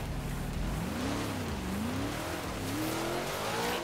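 Dart car driving in the video game Forza Horizon 3: a steady engine drone that rises and falls in pitch as the car accelerates and shifts, continuous and moderately loud throughout.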